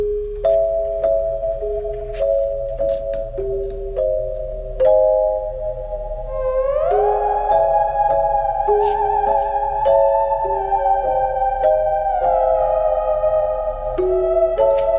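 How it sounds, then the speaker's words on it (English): A gentle lullaby film score cue in slow 3/4 time: a bell-like melody over a steady low drone, joined midway by a swelling, gliding upper line, continuous with no voices. "So just a little lullaby."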